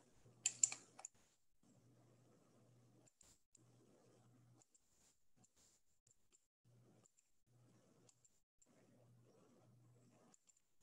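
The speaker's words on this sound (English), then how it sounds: "I'm just clicking this toggle key" Quiet computer keyboard clicks come in short bursts of rapid tapping separated by pauses, with a sharper click cluster at the start and no talking.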